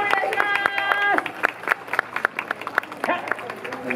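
Warm applause from a festival crowd at a yosakoi dance event in Izumisano, a scattered run of claps rising after an announcer's voice, moderately close and fading into separate claps.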